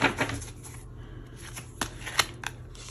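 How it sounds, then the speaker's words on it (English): Oracle cards being shuffled and drawn, giving a series of soft, sharp riffling snaps and slides at close range, irregular bursts against a quiet room, with no talking. "Now let's go ahead and pull a spirit card."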